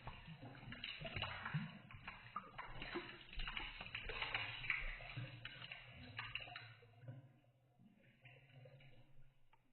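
Water flows through a bottle as irregular air bubbles rise and glug, a close, sloshing, gurgling stream with bursts of bubbling that fades to a quieter trickle near the end.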